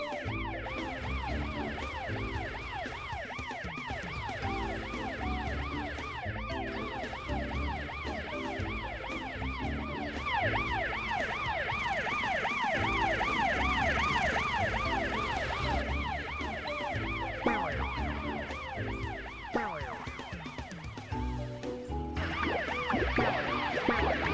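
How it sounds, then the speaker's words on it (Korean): A wailing siren sweeps up and down repeatedly, loud and continuous, over the rumble of traffic. "뒤에 사이렌 소리 들려?"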